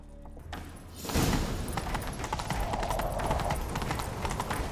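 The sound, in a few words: horse galloping in video game The Witcher 3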